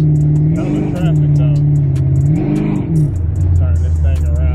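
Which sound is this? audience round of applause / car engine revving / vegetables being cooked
car engine revving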